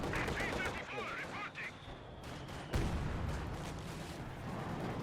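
Battle gunfire in Company of Heroes 2 near a Panzer IV and T-34 tanks, with sustained crackling shots and a sharp louder blast midway, all under dense game noise.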